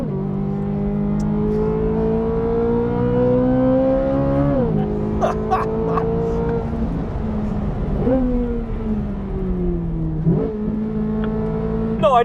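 A 2023 Corvette Z06 supercar driving hard through corners on a track, a loud engine holding high revs, dropping briefly and climbing again through several gear changes and lifts, heard up close from inside.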